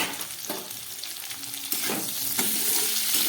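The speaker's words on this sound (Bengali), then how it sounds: "খুব ভালো করে এই নুন হলুদ দিয়ে একটু ভেজে নিই।" Cauliflower, potato and tomato fry with salt and turmeric in a pan, a steady close sizzle broken by a few scraping stirs, with no talking.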